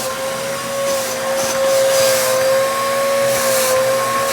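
Vacuum cleaner running close and loud while sucking up dust, a steady whirring hum with a high whine and slight swells in airflow.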